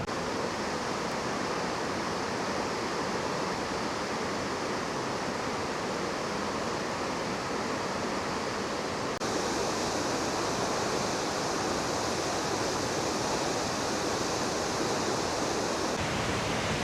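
Broadband roar of a large multi-layered waterfall in Squamish rushes on continuously with no speech, steady and enveloping throughout.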